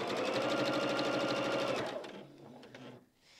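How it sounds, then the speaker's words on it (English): A sewing machine stitches pieces of a baby quilt in a fast, steady whirring run that stops after about two seconds, followed by a few soft clicks and handling noises, close and moderately loud with no speech. "Now this unit that I'm sewing is the bunny's tail."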